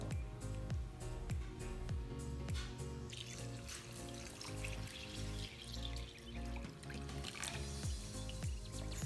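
Chicken broth is poured into a slow cooker of enchilada soup in a steady, continuous liquid stream, quiet and close, with faint clinks and drips as it fills toward the top.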